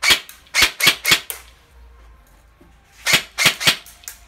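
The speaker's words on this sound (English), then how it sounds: "I'm just going to show you the gun actually firing and how loud it is" A G&G ARP-9 airsoft gun fires on semi-auto, four sharp close pops in quick succession, a pause of quiet, then four more evenly spaced shots.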